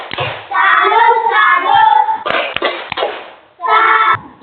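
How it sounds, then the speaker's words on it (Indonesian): Classroom pupils chant a 'salute' clapping routine for a classmate, sung voices punctuated by a few sharp hand claps in a short rhythmic burst, with a pause before the last chanted phrase. "tepuk salut untuk Delsa"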